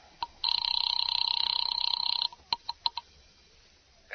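An old-fashioned telephone bell rings in a 1940s radio drama, one long continuous ring followed by a few short clicks, close and clear with no one speaking.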